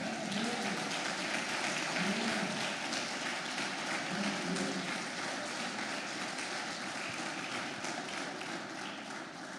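Steady applause from a church congregation fills the space, a dense, continuous patter of clapping at moderate volume with faint voices underneath.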